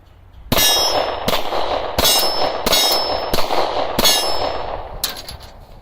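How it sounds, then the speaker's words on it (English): A Glock 43 pistol is emptied rapidly at a steel target, giving seven sharp, loud shots at roughly even spacing, each followed by a ringing metallic clang. "And we're just gonna do a quick mag dump"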